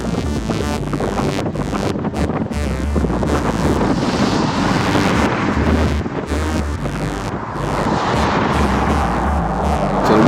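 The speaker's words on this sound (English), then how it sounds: "Wind's picking up a little bit." Steady, heavy wind buffeting a cyclist's microphone during a group road ride on a gentle climb, a loud continuous low rumble with gusty swells throughout and no speech.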